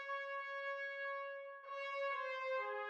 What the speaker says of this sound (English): the 3 trumpets playing in tenuto to get a bit of a marking